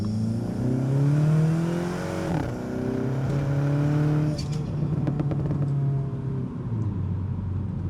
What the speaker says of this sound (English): It feels like it wants to just rev out a little bit more.